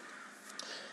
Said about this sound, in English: if you hear a bunch of crows outside in the yard, we got like 50 crows in the front yard.